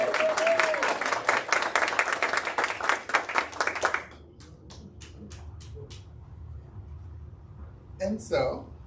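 A school board meeting audience applauds a recognized staff member, with sustained clapping for about four seconds that then thins to a few scattered claps and faint room noise before a brief voice.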